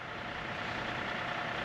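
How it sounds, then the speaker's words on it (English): Steady, broadband engine drone from a tractor idling outdoors, constant and fairly loud with no breaks or changes in pitch. "we got the tractor on"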